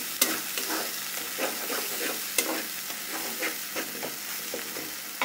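Spice masala for a chicken and cauliflower kofta curry being stirred and fried in a pan, close sizzling with repeated scraping strokes of a spoon at an uneven rhythm, no voices.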